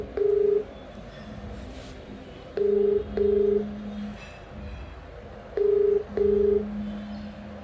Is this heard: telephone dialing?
yes